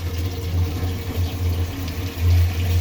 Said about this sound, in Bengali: দিয়ে দিলাম ঝোল।